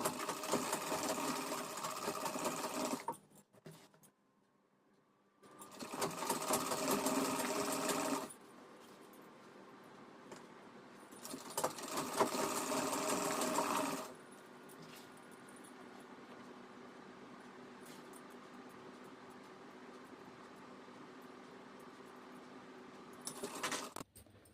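Sewing machine stitching a halter neck maxi dress, three loud bursts of fast motor-driven stitching separated by pauses, followed by a quieter steady hum.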